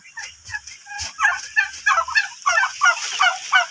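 Male turkeys gobble in a loud, rapid rattling run of repeated burbling bursts, close and clear, with a few soft low thumps at the start.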